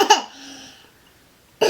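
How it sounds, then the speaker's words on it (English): A toddler gives a short burst of fake coughing, a loud rough cough with a laughing quality, then a quiet stretch before another loud burst starts at the end. "She loves to fake cough now."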